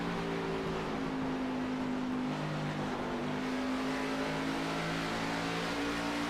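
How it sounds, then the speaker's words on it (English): A race car engine, the 77 car at Phoenix, hums steadily at a smooth, sustained pitch under light throttle, a constant drone with a faint broadband roar and no voices. "Listen to how smooth that throttle input is on that 77 car."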